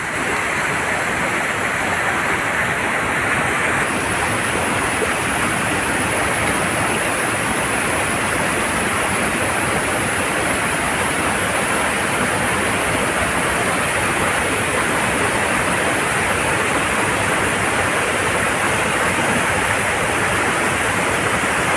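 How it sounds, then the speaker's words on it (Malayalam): A waterfall at Peechi in Thrissur pours over rocks in a loud, steady, dense roar that holds unbroken from start to finish, with no voices heard. "നല്ല മനോഹരമായ വെള്ളച്ചാട്ടമാണ് കേട്ടോ."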